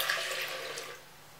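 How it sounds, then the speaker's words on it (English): Warm milk poured into a large bowl for pretzel dough, a soft liquid splashing and trickling that fades after about a second. "So I'm gonna pour the warm milk in my bowl."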